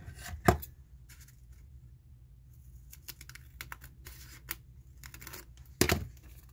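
Scissors cutting paper for a junk journal made from a Little Golden Book: quiet, close, crisp snips and crinkles in an uneven rhythm, with a few louder cuts and no talking.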